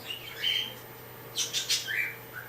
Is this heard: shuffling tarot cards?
no